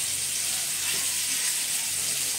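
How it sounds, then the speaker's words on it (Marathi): Surmai fish fries in oil on a hot tawa, giving a steady, close hiss of sizzling that stays even for the whole stretch, with no voices. "तवा चांगला तापायला द्या आणि मग सगळे आपण हळूहळू एक सोडून मध्ये तेलामध्ये"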